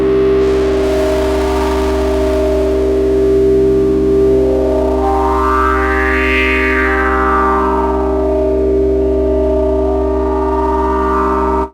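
A huge synth pad run through a hard-clip distortion insert holds one thick, buzzing, sustained chord, loud and alone, with a bright swell of overtones rising and falling midway.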